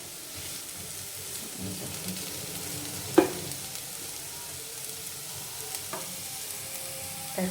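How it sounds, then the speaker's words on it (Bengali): Fried potato bhaji in a pan gives off a soft, steady sizzle, with a sharp spatula scrape against the pan partway through and a few lighter clinks, close and quiet with no voices. "এখানে যে আলু ভাজিটা হয়ে গেছে, আমি একদম ঝরঝরা করে ভাজিটা করে নিয়েছি।"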